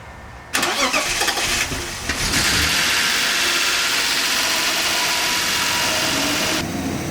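An E36 BMW M3 engine cranks and catches, then settles into a steady, loud idle that runs continuously.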